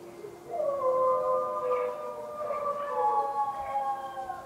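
A group of people howl together outdoors on an evening in Chico, California, during the COVID-19 lockdown, their overlapping drawn-out wails rising and falling like a siren over steady background noise, with no words spoken.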